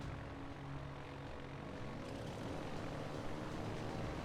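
Fighter aircraft engines in the naval video game World of Warships Legends, a steady, droning propeller roar that stays even throughout, moderately loud, with no talking over it.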